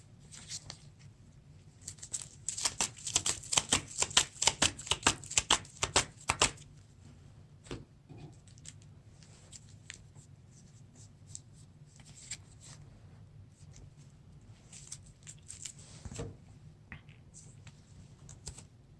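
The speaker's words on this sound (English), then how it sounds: "Shuffles the encounter deck." Someone shuffles the encounter deck for the Lord of the Rings card game, a rapid burst of crisp riffling card snaps for several seconds, then sparse soft card handling, close and fairly quiet.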